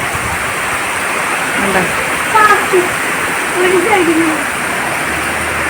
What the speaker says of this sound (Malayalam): ഒരു സൈഡില് മാത്രം മഴ പെയ്യുന്നു